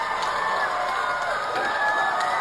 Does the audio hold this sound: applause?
yes